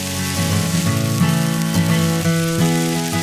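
Ground beef and onion sizzle steadily in a hot pan, a close, continuous crackle of frying with no voices over it.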